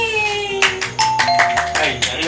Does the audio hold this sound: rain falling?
no